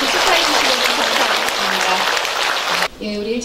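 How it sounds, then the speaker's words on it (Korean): Loud, dense applause from an audience at a Korean Buddhist temple book-launch ceremony as disciples present flowers to a senior nun, continuous for about three seconds, then a voice briefly speaks as the clapping continues. "여러분 큰 박수로 같이 축하해 주시면"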